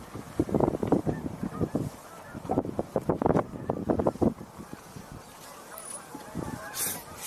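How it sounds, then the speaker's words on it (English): Canada geese honk in a rapid, overlapping chorus outdoors, several birds calling at once over steady wind noise on the microphone, the calls thinning out and fading after a few seconds. "I hear Canada geese."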